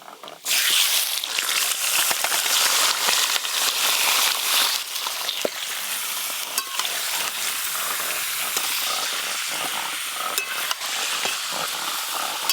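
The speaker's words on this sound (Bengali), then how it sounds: "কেটে ধুয়ে রাখা এবার চিকেনগুলো কোড়াতে দিয়ে দেবো" Chicken pieces fry in hot oil tempered with whole spices and cumin for a chicken curry, a steady loud sizzle and hiss with scattered stirring scrapes running throughout, close by and without talk.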